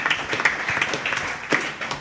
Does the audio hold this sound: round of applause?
yes